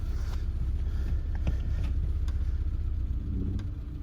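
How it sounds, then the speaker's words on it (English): A car's engine rumbles low and steady as the vehicle creeps forward with its clutch slipping, with a few faint clicks and knocks over the drone. "we can slip the clutch just a little bit, see if it moves"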